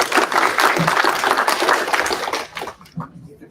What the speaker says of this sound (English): So big round of applause, everyone.